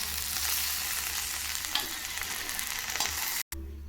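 Okra sautés in oil in a kadai, with a steady, close frying crackle and occasional stirring scrapes, cut off briefly near the end.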